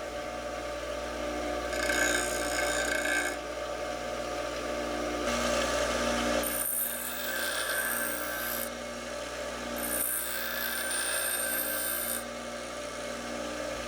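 A knife blade stropped on a piece of MDF, making several separate dry rubbing strokes in short bursts with brief pauses between them, close and fairly quiet with no talking.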